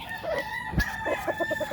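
Roosters and chickens on a Filipino backyard farm, with a crow-like call amid scattered clucks and short rhythmic calls, moderately close, plus a brief thump.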